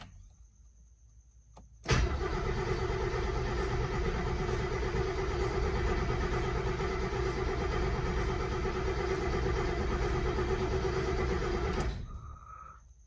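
A Mercedes M100 6.3 V8 cranks steadily on the starter without firing, a loud continuous churning drone of about ten seconds that stops abruptly, with no exhaust fitted.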